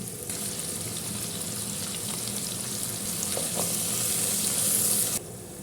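Onions with salt sautéing in a pan, a steady close hissing sizzle with a couple of brief stirring knocks, cutting off abruptly near the end.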